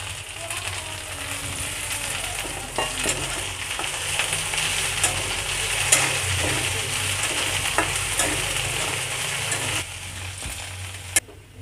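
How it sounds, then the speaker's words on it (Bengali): Chopped culantro leaves fry in a hot pan on a gas stove, a steady close sizzle with scattered scraping stirs and a few sharp clicks of a utensil against the pan, no talking. "পাতাগুলো বেশি কড়া করে ভাজবো না, কারণ এটা আমি ভর্তা করব"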